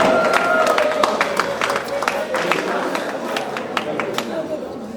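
Wedding guests applaud the couple in a lively, continuous patter of hand claps mixed with crowd chatter and voices throughout.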